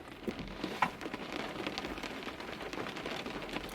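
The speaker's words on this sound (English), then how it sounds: "Let's take a moment and just enjoy the rain." Steady rain falls on a surface in a quiet outdoor moment, a soft continuous patter of drops with a few slightly louder taps, heard alone at low level.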